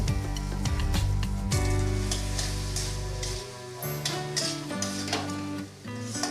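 Sugar is stirred into Bengali amra (hog plum) chutney in a pan, with soft scraping and clinking strokes and a gentle sizzle, all faint beneath steady background music.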